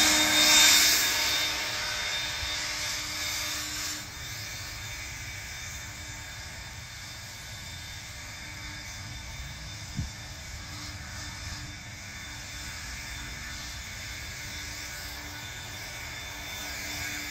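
A Kobalt 40V cordless leaf blower runs steadily, a loud whooshing roar of air that surges at the start and then holds at an even level, with a single brief knock midway and no talking.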